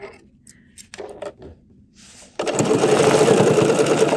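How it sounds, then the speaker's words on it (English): A sewing machine stitches a quilted table runner, starting after a few soft handling noises and running steadily and loud up close for the last couple of seconds. "So what we're going to do is we're going to stitch, and there's that dot that I made"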